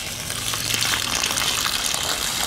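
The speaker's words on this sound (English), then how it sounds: "Let's pour some of this water out and see what it looks like." Dirty water gushes out of a container of brass cartridge cases, a steady splashing pour of broadband noise lasting a couple of seconds, close and fairly loud.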